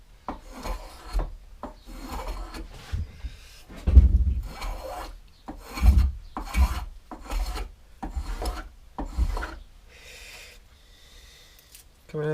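Rasping strokes of a blade shaving wood while a milking stool is made, coming in a series of uneven bursts with pauses between them, loud and close, ending in quieter scraping.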